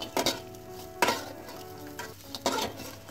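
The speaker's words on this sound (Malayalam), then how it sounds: "അപ്പോൾ ഇത് നന്നായിട്ടൊന്ന് ഇളക്കിയെടുക്കാം." Fried dried fish is stirred in a pan, with a few distinct scraping strokes of the spatula over a low frying sizzle, heard up close with no voices.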